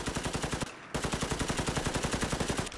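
An AK400 assault rifle in a Fallout 4 mod firing rapid full-auto bursts, a loud close rattle of evenly spaced shots with one brief pause before a longer burst, no talking.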